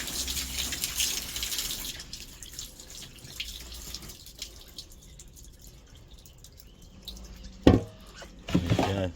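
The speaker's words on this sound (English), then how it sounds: "Just pour some more of this water off." Rusty water is poured off a Honda XL 125S part: a running trickle and splashing that fade to quiet, then two short louder gushes near the end.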